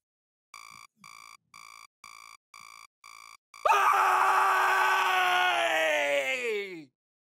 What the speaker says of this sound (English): I have a habit of screaming before I do anything else